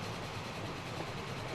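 Steam train running in the Transport Fever video game on the Gotthard map during a haulage race: a steady, dense rolling rumble with a faint rail hiss, continuous and even throughout, with no voices.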